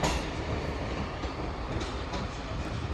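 A Class 158 diesel multiple unit rumbles steadily through Newcastle Central station, its broadband roar holding constant with faint wheel clatter.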